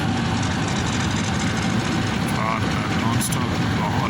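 Heavy diesel locomotive 4556 idles at Rawalpindi station with a low, steady rumble, and someone talks over the engine noise.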